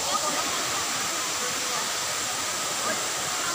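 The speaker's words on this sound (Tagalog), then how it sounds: "Tingnan nyo gano'ng kataas ng falls na to" Kawasan Falls, a tall waterfall where canyoneers jump, roars as a loud, steady broadband rush of falling water throughout, with a voice faintly audible under it.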